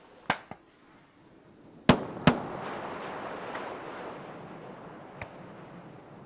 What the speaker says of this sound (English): Sonic booms audible at the landing site.